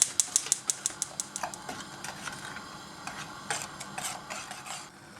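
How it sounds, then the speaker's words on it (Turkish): Packaged chocolate sauce mixed with two glasses of milk in a pot for a semolina dessert, with a spoon tapping and scraping the pot in quick close strokes that slow and soften, and no voices. "Hazır paket çikolata sosunu döküyorum ve karıştırıyorum."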